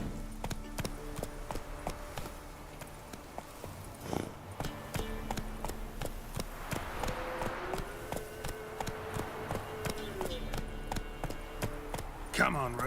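Hooves clip-clop steadily as the horse Roach gallops in The Witcher 3: Wild Hunt, a continuous rhythmic beat under game music and ambience.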